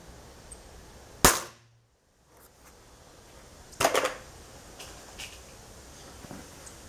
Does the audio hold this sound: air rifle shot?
yes